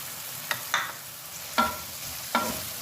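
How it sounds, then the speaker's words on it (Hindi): Julienned carrot and capsicum are sautéed in a pan, with four short scraping stirs over a soft, steady sizzle, close up and with no talk. "तो करेंगे अच्छे से सौटे"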